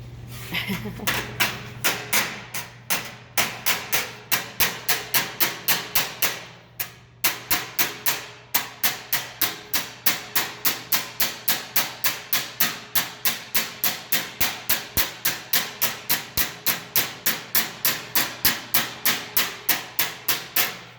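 Continuous fast hammering on a sheet metal flange, sharp ringing strikes in a quick steady rhythm, close up, pausing briefly once before resuming.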